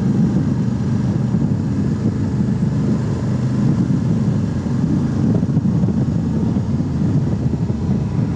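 A Honda CRF 1100L Africa Twin Adventure Sports DCT cruises fast along a highway. Its steady low engine drone is mixed with heavy, constant wind roar, and nobody speaks.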